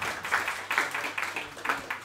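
An audience claps at a live Kyrgyz talk show, a moderate patter of hands in uneven bursts, close and steady for a couple of seconds.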